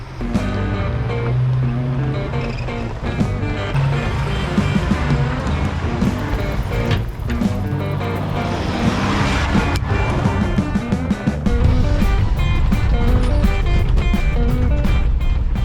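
A 1974 IH Scout is driven off-road, its engine a loud, steady rumbling roar with rattles and bumps running throughout, heard close up.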